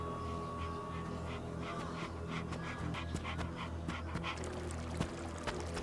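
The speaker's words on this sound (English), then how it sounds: "I hear dog panting" A dog pants steadily close by in a mountain setting, rapid breathy huffs running continuously under a low background hum, with a few faint short squeaks scattered through.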